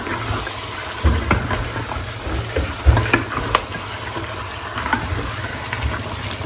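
Pieces of lamb meat are rinsed in water in a home kitchen, giving close sloshing and splashing with scattered knocks and clinks as the meat is handled, and no one speaking.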